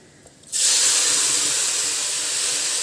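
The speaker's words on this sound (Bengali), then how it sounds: "এবার দেখো চালটা দিয়ে দিলাম" Washed, drained Gobindobhog rice drops into a hot pan of fried dal and spices, bursting into a loud, steady sizzling hiss after a brief quiet moment and staying strong until the end.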